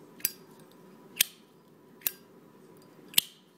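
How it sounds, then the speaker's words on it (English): A genuine Zippo lighter's lid is flicked open and shut, with four crisp metallic clicks at roughly one-second intervals in a quiet room. "Now the sound of a Zippo."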